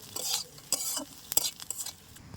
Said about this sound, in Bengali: মাছের মশলাটাও হয়ে গেছে, এবার একসঙ্গে আমি ভালো করে বেটে নেব